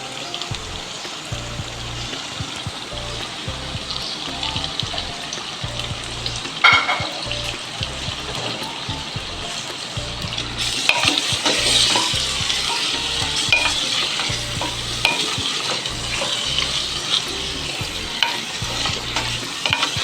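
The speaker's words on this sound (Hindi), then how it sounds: "हमने इसकी इतनी भुनाई करनी है गोश्त की कि इनकी गोश्त का कलर चेंज हो जाए" Mutton with added fat is fried and stirred in a clay pot for Pakistani kunna gosht: a loud sizzling hiss under regular scraping spoon strokes, growing more intense partway through.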